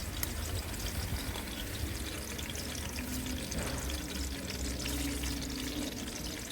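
Plantains frying in hot oil for a Jamaican-style fish dish, a constant loud sizzling hiss that fills the whole stretch without letup.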